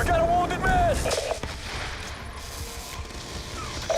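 Gunfire rattles in a combat video game during a base defense mission, short bursts and cracks mixed under tonal electronic alert sounds and game voice lines, fairly loud and close.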